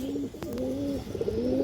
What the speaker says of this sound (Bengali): পুরোনো ব্রাডলাইনের খাকি কবুতর